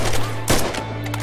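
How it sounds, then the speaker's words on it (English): Short burst of MG42 heavy machine gun fire in the Men of War: Assault Squad 2 game, a loud broadband crack near the middle over a steady low hum. "I see I still have my heavy MG up."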